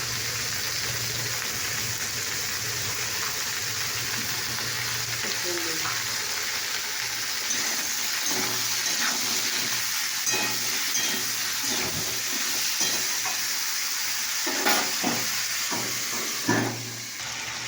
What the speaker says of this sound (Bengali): চিংড়ি দিয়ে আমি ভাজার জন্য নুনটা দিয়ে দিই।